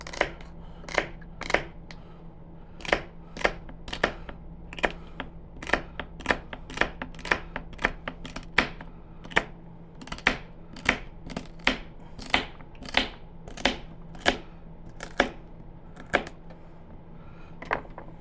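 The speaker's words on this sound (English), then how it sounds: "The rough chopping's actually doing pretty good." A steak knife chops celery sharply against a board in a steady series of crisp, close knocks, repeating every half second or so over a low steady hum.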